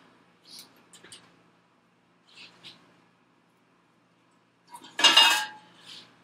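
Metal lids come off hot sourdough bread baking pots, giving a few light, scattered clinks followed by one loud, close clanking clatter near the end, with no talking.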